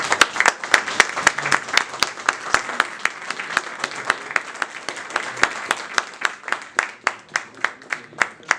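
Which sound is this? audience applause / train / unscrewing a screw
audience applause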